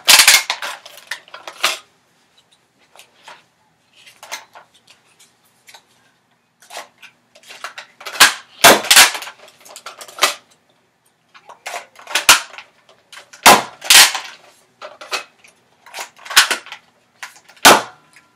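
A Nerf ZombieStrike Ionfire dart blaster is primed and fired repeatedly, giving sharp mechanical clacks and pops in irregular clusters, close and fairly loud, with quiet gaps between bursts.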